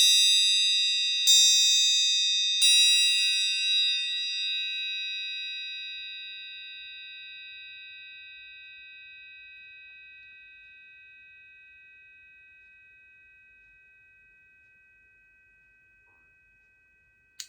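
A struck metal triangle, made from a bent washing machine spindle, gives a few bright strikes in quick succession. Its shimmering high tone then rings on alone and fades slowly over many seconds.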